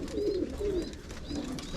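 Pigeons cooing in a loft, several soft rolling coos close by over a busy background of fluttering and rustling.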